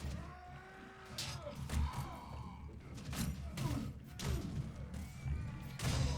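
Melee blows land from horseback in Mount and Blade Warband, several dull thumps and impacts over a constant rumbling battle din, with hoofbeats and distant crowd noise in the mix.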